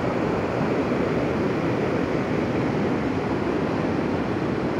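Water of the Nantahala River rushes steadily as a broad, constant roar, loud and close, with no voices.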